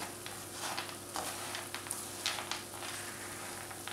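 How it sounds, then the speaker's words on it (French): Sugar melting into caramel for praline sizzles softly and steadily in a pan, a quiet even crackle broken by faint stirring ticks, with no talking. "On va donc poursuivre la cuisson pendant encore 5 bonnes minutes pour obtenir un caramel"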